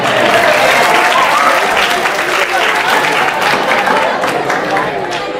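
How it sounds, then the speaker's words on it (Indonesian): A crowd claps loudly and continuously, with voices and cheering mixed into the applause. "Tepuk tangan."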